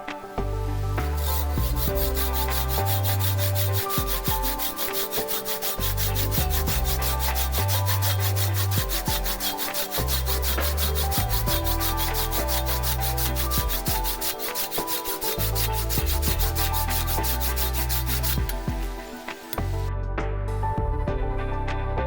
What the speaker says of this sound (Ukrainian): Зараз подивимося, як ця пилка ріже.